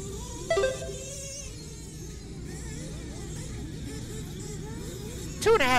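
Nitro RC truggies race around a dirt track at a BeachRC Pro A-main, their small engines whining and buzzing steadily at mid distance, with a brief louder burst near the end.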